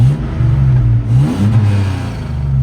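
V6 engine in a 1989 Toyota pickup revving through a MagnaFlow exhaust, a loud, throaty, rising and falling drone, rumbling up and down over a couple of seconds with no voices.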